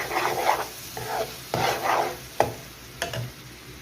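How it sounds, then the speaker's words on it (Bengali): Chicken liver bhuna stirred and fried in a pan, with a spatula scraping and stirring in several bursts over a steady soft sizzle; no one speaks. "আমি খুব সহজে কলজা বোনা করি"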